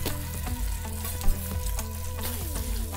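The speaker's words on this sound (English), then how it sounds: "I'm just gonna cook bacon and then kind of dip my bacon in the apricot." Bacon sizzles and spits in a frying pan, a dense, continuous crackle up close with a loud pop partway through and no voices over it.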